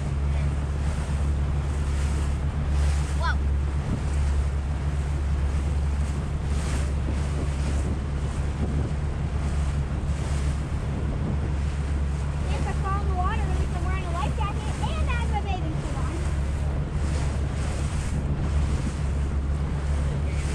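Motorboat cruising on Lake St Clair on a hot summer day, with a constant low engine rumble, rushing waves and heavy wind buffeting the microphone throughout, and faint voices briefly audible midway.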